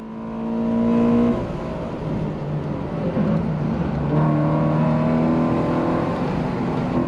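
Subaru BRZ engine pulling hard on a race track, a loud steady rising drone with harmonic bands climbing in pitch through the whole stretch, close and continuous with no talk over it.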